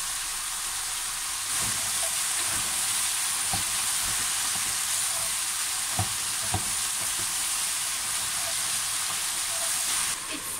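Wild bolete mushrooms cook in a hot pan with a loud, dense, continuous sizzle and hiss that barely changes level. Occasional soft taps and bumps come through underneath, with no voices.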